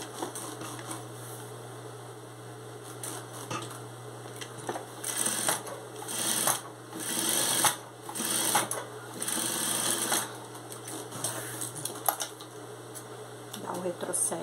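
Sewing machine stitching a mitred-corner placemat, running in bursts of rapid mechanical chatter that pause and restart, close and clear, with someone speaking between runs.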